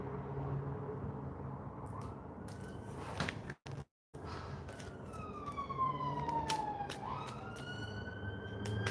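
Emergency vehicle sirens wail and sweep up and down over traffic noise, fairly distant at first and growing clearer, with a brief cut midway.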